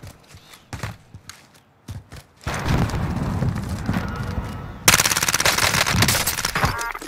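Rapid automatic gunfire from M4A1 and CX-9 weapons in Warzone on Rebirth Island, with sparse shots and footsteps first, then sustained loud bursts and a sharper, denser volley near the end.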